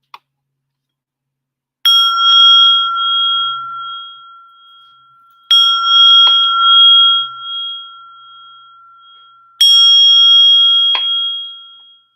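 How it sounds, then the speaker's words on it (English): A small gong bowl is struck three times, each strike a clear bright ring that sustains and slowly fades over a few seconds in a quiet room, with long gaps between. "after I strike a small gong bowl"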